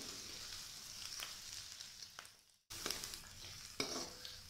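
Onions sautéing over a medium flame for masoor dal, a soft, fairly faint sizzle with light stirring scrapes, briefly cutting out before resuming.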